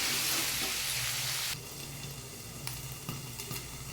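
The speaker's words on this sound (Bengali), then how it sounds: "এরকম আস্তে আস্তে ভেজে নেব, কম আঁচে সুন্দর করে ভাজতে হবে আর সবজিটা" Vegetables frying slowly over low heat in a pan: papaya, potato and taro stolons. A loud, steady sizzle softens partway through into a quieter crackle with small pops and scraping. No one speaks.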